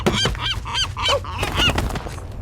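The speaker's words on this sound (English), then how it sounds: "You can't scare those seagulls." Seagulls call in loud, overlapping honking cries, several harsh squawks in quick succession close by, in the film The Lighthouse.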